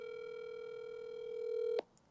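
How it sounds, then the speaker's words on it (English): A telephone call is placed as a radio comedy sound effect: a steady, moderately loud telephone tone holds for nearly two seconds, then cuts off with a single sharp click, leaving near silence. "Gertrude, Mabel, can you get me Don Wilson on the phone?"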